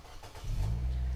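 A 2014 Nissan Evalia XV automatic's engine catches and settles into a steady, close idle hum after a brief starter sound.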